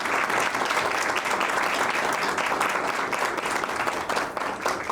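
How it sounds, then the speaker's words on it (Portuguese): Audience applause at the closing of a meeting of presidents of constitutional courts of the Americas: dense, sustained clapping from a large crowd, loud and even throughout. "Un aplauso, ¿no es cierto? Para nosotros."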